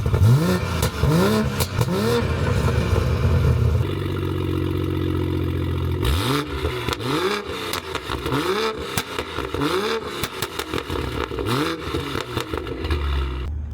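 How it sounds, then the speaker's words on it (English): BMW M340i with an aftermarket AliExpress valvetronic exhaust, valves closed, revving repeatedly: loud rising and falling engine sweeps, a steadier held drone in the middle, then more quick blips close to the car. "let me give y'all some revs while the valves are closed so y'all can hear it"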